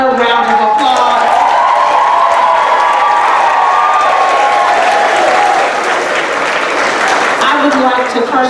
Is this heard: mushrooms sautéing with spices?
no